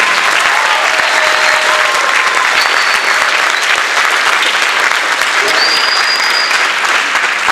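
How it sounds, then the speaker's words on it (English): Recorded applause played back over speakers at a jazz camp performance, a dense, loud, continuous wash of clapping that fills several seconds, with a few faint whistles or tones drifting over it. "Can you run the applause?"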